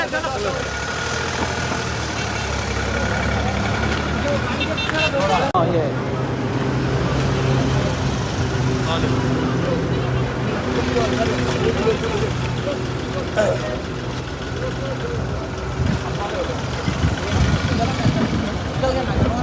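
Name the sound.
vehicles being driven out, truck engines idling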